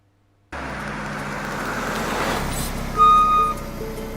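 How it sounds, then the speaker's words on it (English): A car driving fast, a steady loud engine and road roar that starts abruptly and swells, with a brief horn-like tone near the end and no talk. "Why are you driving so fast?"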